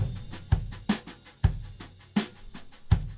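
A drum kit captured by distant room microphones, with roomy kick and snare hits spaced at a steady groove and airy cymbal wash between, moderately quiet.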